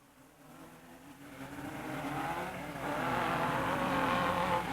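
An off-road race car at a 1987 Raven Raceway event runs off the track, its engine swelling from a distant drone to a louder, sustained rasping roar.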